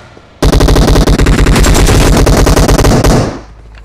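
Sustained automatic gunfire from PUBG Mobile, a rapid, dense burst of loud, close shots lasting about three seconds before cutting off.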